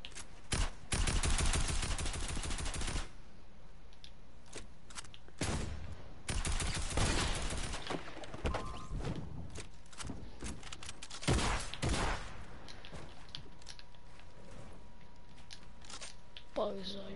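Rapid automatic gunfire from the Fortnite video game comes in loud bursts, with quieter shots and game noise between them while players talk.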